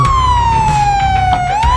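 Loud, steady police car siren wail, a single tone sliding slowly downward then rising again, continuous and close, with a low rumble underneath and no talk.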